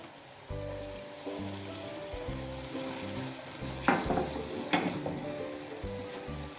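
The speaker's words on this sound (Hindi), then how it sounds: "प्याज में ही हम इसको फ्राई करेंगे 2 मिनट के लिए।" Onions and tomatoes frying in a pan, a steady loud sizzle running throughout with brief louder bursts of stirring and clatter partway through, no voices.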